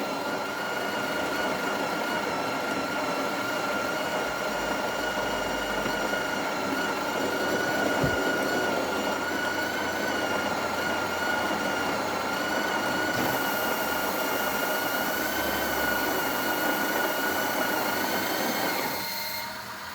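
A Breville Oracle Touch espresso machine grinding coffee at grind setting 12, a steady loud mechanical whir that runs continuously for the whole stretch without pause, with no talk.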